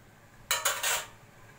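A stainless steel spoon and fork clink together in a quick burst of three or so bright, ringing taps, close by, then quiet.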